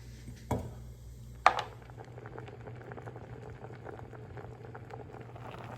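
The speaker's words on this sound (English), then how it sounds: "while the apples are cooking, I'm just taking a wooden spoon and I'm just pushing them down as they cook" Apples simmer in a pot for applesauce with a steady soft bubbling throughout, broken early by two brief knocks from a wooden spoon, heard close and alone.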